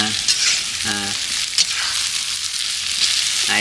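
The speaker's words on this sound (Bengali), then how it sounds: "এবারে একটু ভাজা হোক এরমভাবে" Food sizzling and frying in a pan while being stirred, a steady close hiss with occasional scraping and a few brief voices over it.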